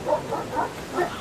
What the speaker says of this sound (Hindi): उसे अपने पीछे भागते हुए कुत्तों की आवाज सुनाई दी।